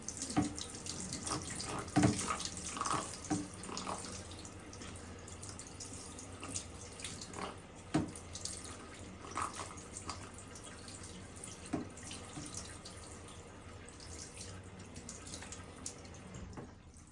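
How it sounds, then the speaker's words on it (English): Steady running water pours from a tap over a cordless vacuum filter, splashing and trickling continuously at close range with a few louder drips and spatters, no voices. "run the water over it"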